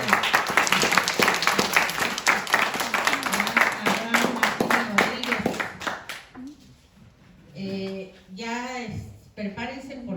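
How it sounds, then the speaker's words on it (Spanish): Loud, dense applause from a conference audience fills the first six seconds, then fades into scattered claps and a few shouts and cheers. "vamos a darle un aplauso muy fuerte"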